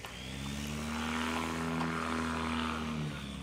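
A STOL aircraft's propeller engine drones steadily at a short-takeoff competition, a sustained harmonic roar holding fairly loud and even from start to finish with no talk over it.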